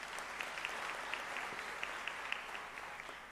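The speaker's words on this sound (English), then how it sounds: "Another warm round of applause." Warm applause at the opening ceremony of an academic year, a large hall audience clapping steadily and evenly throughout, heard from a distance.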